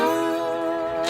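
An electric guitar rings out a sustained, harmonically rich note from a blues phrase, clear and close for about a second with no talking.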